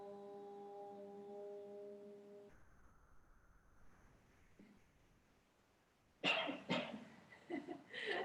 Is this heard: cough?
yes